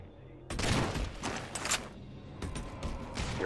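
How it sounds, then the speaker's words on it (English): Gunfire from many players at once in a Halo 4 SWAT match, with overlapping shots from several directions forming a continuous, layered volley over a few seconds. "Too many people shooting, yeah, too many different directions."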